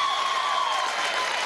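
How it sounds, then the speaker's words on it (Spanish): Audience applause at a Venezuelan government event marking the Gran Misión Venezuela Mujer, a dense, steady wash of clapping from a crowd that holds level for the whole short stretch, with a faint tonal hum running underneath. "Un aplauso a estas muchachas, ¿vale?"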